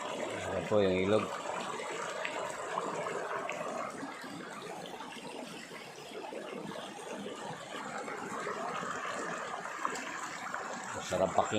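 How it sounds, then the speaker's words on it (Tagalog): Water flows in a river on a farm, a continuous rushing wash heard close by, with a voice speaking briefly at the start. "Sarap pakinggan yung tunog ng tubig."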